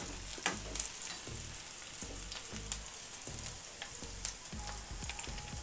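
Ginger, garlic and tomato fry for mutton pepper fry, with a constant bubbling sizzle under a regular, rhythmic series of stirring scrapes repeating about once every half second, close and unaccompanied by talk.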